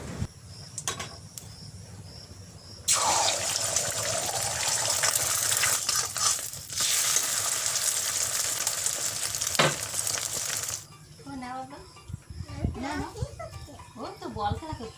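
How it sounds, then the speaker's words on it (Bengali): Home-raised chicken eggs fry in a wok, a loud, steady crackling sizzle that runs for several seconds, then cuts off as nearby voices begin talking. "এখন কড়াই বসিয়ে দিয়েছি, ডিম ভাজা করব"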